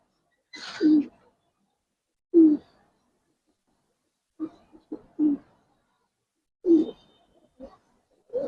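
Silver Giribaz pigeons give soft, separate coos at irregular intervals, some single and some in quick clusters, close by in an otherwise quiet space.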